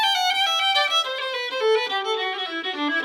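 A fiddle plays a fast Irish reel, "Tripping Down the Stairs", with quick trills that sound like triplets. A bright, continuous run of bowed notes with fluttering ornaments, close and alone, with no talking.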